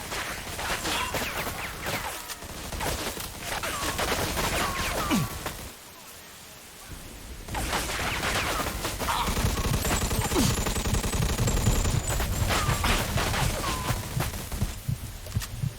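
Enemy gunfire in the video game Mafia 2 crackles in dense repeated bursts mixed with game sounds, cutting out briefly midway before resuming steadily at close range.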